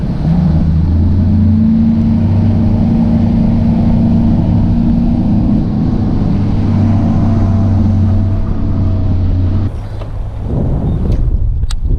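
A Falcon bass boat engine roars steadily and loudly on a lake at speed, a constant deep outboard drone with wind rush, briefly dipping near the end.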